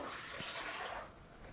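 Excess whey is poured out of a container of homemade tofu, a soft steady stream of splashing liquid that thins out toward the end, quiet and close.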